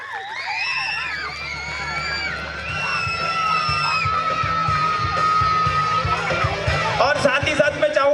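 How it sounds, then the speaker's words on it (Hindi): A school crowd of children and adults cheers, yells and whoops loudly and continuously for a student named Divyansh Bhagat at a school event, a dense roar of voices that swells toward the end. "जोरदार तालियां हो जाए दिव्यांश भगत के लिए"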